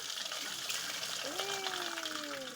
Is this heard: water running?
yes